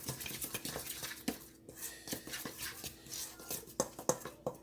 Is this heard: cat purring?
no